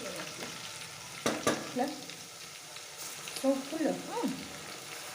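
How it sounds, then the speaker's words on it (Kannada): Green chillies fry in a pan for mutton curry, a steady broadband sizzle running throughout with a few louder crackles and scrapes, while a voice speaks briefly over it. "ಇದು ಹಸಿಮೆಣ್ಸಿನ್ಕಾಯಿ ಚೆನ್ನಾಗಿ ರೋಸ್ಟ್ ಆದರೆ ಅದ್ರ ಫ್ಲೇವರ್ ಇನ್ನೂ ಚೆನ್ನಾಗಿರುತ್ತೆ"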